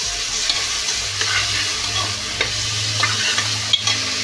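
Four large chopped onions get stirred in a pressure cooker, a spoon scraping and clacking against the metal over a soft sizzle, repeated close strokes with no voice.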